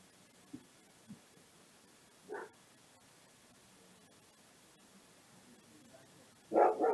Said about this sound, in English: I hear my dogs bark again.